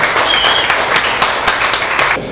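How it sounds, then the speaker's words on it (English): Loud applause and clapping from a small comedy club audience fill the whole stretch, close and steady before easing off at the end. "Give a big round of applause."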